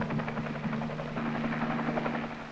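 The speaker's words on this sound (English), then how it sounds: "an ARVN helicopter landed." An ARVN (South Vietnamese army) helicopter landing in Vietnam in 1963: steady rotor thump and engine whine hold close and loud throughout, with a constant low drone underneath.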